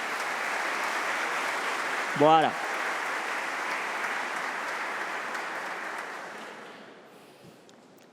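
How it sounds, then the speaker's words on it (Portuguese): Sustained applause from an audience at a formal medal-awarding ceremony in Rio de Janeiro, a steady wash of clapping with a brief spoken word partway through, slowly dying down toward the end. "pedir a cada um de vocês uma salva de palmas a eles"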